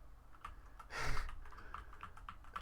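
Quiet, scattered keystrokes on a computer keyboard tap out in a loose, uneven rhythm, with a brief burst of louder clatter near the start, close by and with no talking.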